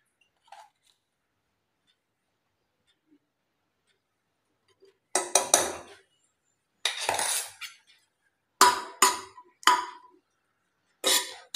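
A metal spoon clinks against a pressure cooker as ghee goes in for Maharashtrian wheat kheer, with a few sharp, bright taps at first, then clusters of clattering metallic knocks arriving in bursts, close and fairly loud.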